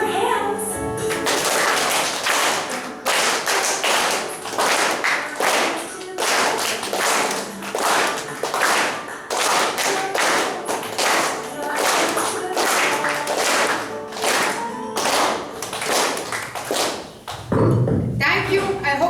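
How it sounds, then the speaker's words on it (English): An audience claps along to a song at a school event, rapid rhythmic hand claps repeated steadily for nearly twenty seconds over music, loud and close, ending in a brief pause before a final burst. "Now clap your hands."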